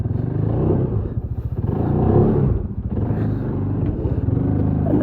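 A 2022 CFMoto ZForce 500 UTV crawls up between rocks on a trail, its engine revving and bogging in uneven surges with clattering and rumbling from the chassis, loud and close.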